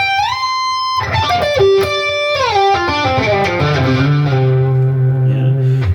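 An electric guitar plays a slow lick that ends in a flurry on the D pentatonic minor. Effected, reverberant notes slide and step downward, closing on a long held low note.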